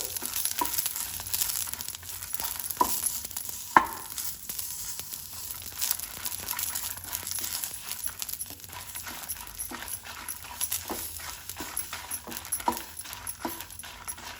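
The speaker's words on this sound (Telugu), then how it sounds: "నీట్గా కడిగి పెట్టుకున్న చింతపండు కూడా నూనెలోనే మగ్గిద్దామండి మిరపకాయతో పాటు" Tamarind and dried red chillies frying in hot oil, a steady soft sizzle running throughout with scattered clicks and light taps of stirring, at a moderate level with no voices.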